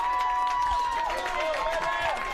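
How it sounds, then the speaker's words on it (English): A home crowd at a UCLA Bruins college rugby match against the University of Arizona cheers and roars at a steady level, with shrill whistles and voices rising above the stadium noise. "The home crowd getting behind the Bruins here."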